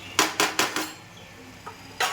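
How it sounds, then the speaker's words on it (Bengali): Metal clatter of a lid being placed on a pan of malai chicken: four quick, close clanks in a row, a faint tap, then one more clank, no talk. "এবার আমি একটু ঢাকা দিয়ে দেবো 10 মিনিটের জন্য।"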